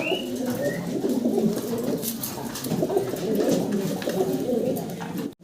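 Danish fancy pigeons coo in a dense, continuous low burbling chorus close by, several birds overlapping throughout.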